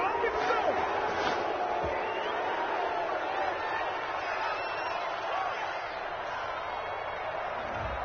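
A home crowd roars steadily in a PS4 football video game, a dense, even wash of cheering and stadium noise filling the whole stretch with slight swells.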